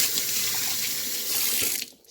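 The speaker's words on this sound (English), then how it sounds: "wash my hand." Tap water runs steadily into a sink during handwashing, a close, even hiss that tapers off as the flow stops.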